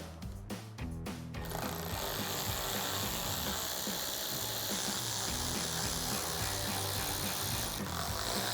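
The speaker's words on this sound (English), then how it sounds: "so I've got a T20 Torx socket to get these out" T20 Torx screws come out of the third brake light on a Ford F-150 under a socket driver, with a few quick ratchet clicks and then a continuous whirring mechanical drone, close up and steady.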